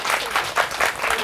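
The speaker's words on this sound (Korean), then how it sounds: "다시 한번 박수해 주세요." Audience of about a hundred applauding at a church patriotic concert, a brief burst of dense, even clapping close by.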